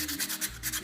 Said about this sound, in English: Very quickly sanding.